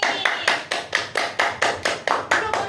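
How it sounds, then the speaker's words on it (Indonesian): Children clap in unison in an elementary classroom during a science lesson, about eleven sharp, evenly spaced claps in a quick steady rhythm, close and fairly loud, with no talking over them. "Tepuk tangan untuk hari ini."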